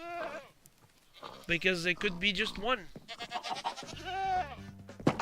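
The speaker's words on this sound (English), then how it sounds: "We have more goats in here." Minecraft goats bleat in several wavering cries, some overlapping, while a person talks over and between them.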